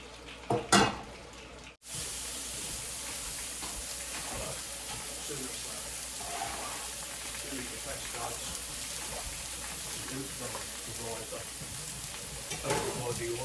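Garlic frying in oil for garlic buttered prawns, a steady close sizzle and crackle that runs continuously after a brief clatter at the start, with occasional stirring scrapes and voices talking over it.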